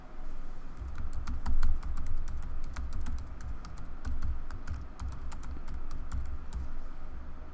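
Fast typing on a computer keyboard gives a steady run of close, crisp key clicks. The clicking goes on for several seconds with no talk over it.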